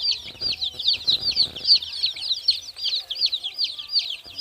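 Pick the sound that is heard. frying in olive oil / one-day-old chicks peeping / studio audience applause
one-day-old chicks peeping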